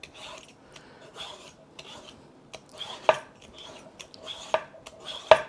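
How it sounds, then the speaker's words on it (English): A butternut squash peeled with a vegetable peeler, heard as repeated close scraping strokes with soft rasping rubs between sharper scrapes, at an irregular rhythm. "I think the easiest way to peel this squash is just with a vegetable peeler"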